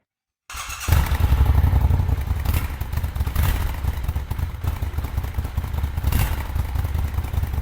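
A Triumph Scrambler 1200 XE twin-cylinder motorcycle engine starts abruptly and settles into a loud, throbbing idle with occasional revs, close by and alone.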